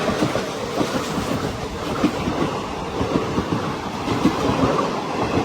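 A passing train at a crossing on the Tirupati to Hazrat Nizamuddin Rajdhani Express route rumbles loudly nearby, wheels clattering in a rapid rhythmic clickety-clack that continues without voices.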